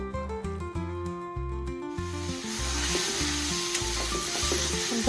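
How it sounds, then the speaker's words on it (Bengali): Fried eggplant pieces go into a small-fish chorchori cooking with kasundi, and a steady sizzle of frying rises and thickens as they hit the pan, with music playing underneath throughout. "তারপরে ভেজে রাখা বেগুনগুলো দিয়ে দিল"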